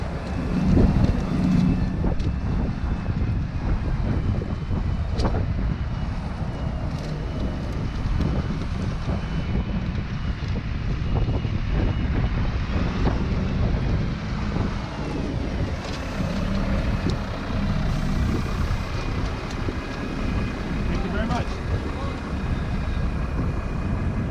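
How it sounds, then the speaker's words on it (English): Wind buffets the microphone outdoors in a steady loud rumble that persists throughout, with a voice faintly mixed in at a lot where a 2008 Ford Mustang is unloaded on forks. "I don't know if the wind will be too much in the way"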